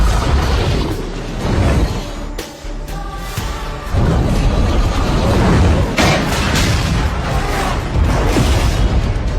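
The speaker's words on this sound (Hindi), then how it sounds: "एक जोरदार धमाके के साथ" A loud, booming gas cylinder explosion erupts into a dense, roaring wall of noise that stays heavy and rumbling throughout, with a brief dip before surging again.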